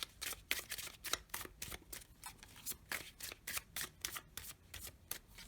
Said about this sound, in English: I'm trying to get them really shuffled here since they were all in order when we started.